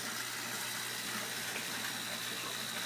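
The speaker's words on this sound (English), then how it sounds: "And so for now, this is just draining right back into the sump." Water draining back into the sump of a large aquaponics system, a steady close rushing trickle and gush with a low pump-like hum underneath, continuous and unbroken.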